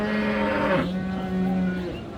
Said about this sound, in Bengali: আর এখানে ছায়ের মধ্যে বেশ কয়েকটা গরুই আছে